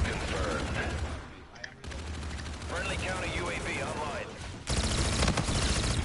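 First-person shooter video game gunfire, bursts of rapid automatic shots crackling over a dense battle soundscape, with a louder volley near the end, mostly steady and close.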